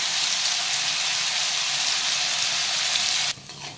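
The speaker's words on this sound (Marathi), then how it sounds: "पनीर आपण मस्त फ्राय करून घेऊ आता" Pieces of paneer fry in hot oil with a loud, even, hissing sizzle that holds steady and then drops away sharply near the end.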